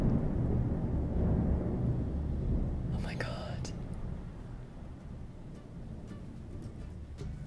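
Thunder from a passing storm rumbles outside as a low, rolling wash that slowly fades, with a brief whispered voice partway through.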